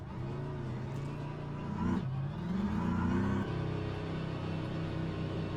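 Car engine in a racing video game, newly added DLC car, holds a steady mid-pitched drone, then revs up and climbs through gear changes before settling again, loud and continuous with no talk.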